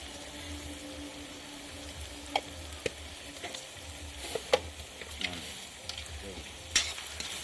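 Onions and masala fry in a pan over a firewood stove for a beef curry, with a steady close sizzle broken by scraping stirs of a spoon against the pan.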